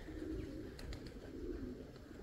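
Pigeons coo softly in a dovecote, low repeated throaty calls at a distance, faint and alone with no talk.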